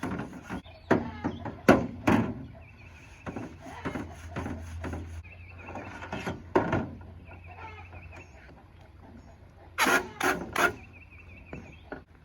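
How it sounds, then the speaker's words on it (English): SOS steel wool pad scrubbing a chicken nesting box, making intermittent close rasping and rubbing strokes with knocks against the box, while chickens cluck faintly in the background. "you're going to take this SOS pad and you're going to give it a good scrubbing all over."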